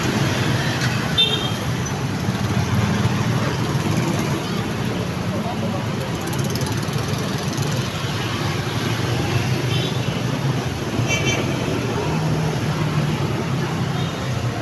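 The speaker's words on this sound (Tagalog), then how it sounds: "May mga sasakyan dito." Steady road traffic rumbles near a bridge in Barangay Bangkiron, Catarman, Northern Samar: a continuous, fairly loud wash of passing vehicle engines and tyre noise with no break across the whole stretch.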